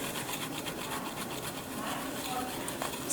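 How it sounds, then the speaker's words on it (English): A toothbrush scrubs old thermal paste off a laptop circuit board with steady, close, bristly back-and-forth strokes that run continuously. "The rest of it, I'm just gonna brush it off with this toothbrush."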